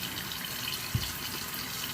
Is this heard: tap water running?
yes